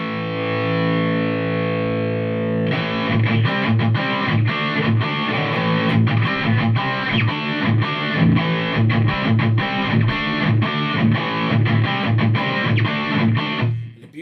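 Electric guitar played through a Marshall Code 50 amp on its JCM800 model with no reverb, starting with a sustained distorted chord, then loud rhythmic palm-muted chugging and chords played steadily to the end.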